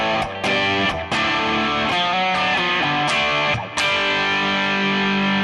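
Distorted rhythm guitar through a Digitech RP355 multi-effects pedal plays loud chord strums with a few brief choked gaps, then settles into a sustained ringing chord.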